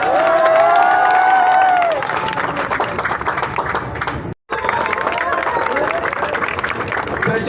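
A crowd claps and cheers loudly, with whoops and excited voices rising over the applause before it settles into a steadier clapping with a short break.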